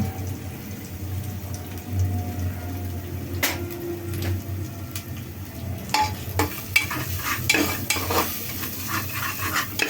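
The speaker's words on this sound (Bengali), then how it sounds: "এখন মশলাটা কষিয়ে নিব" Spice masala with turmeric, chilli and coriander powder sautés in a pan for fried beef, a steady close sizzle broken by repeated scraping stirs and sharp spoon taps that grow busier toward the end.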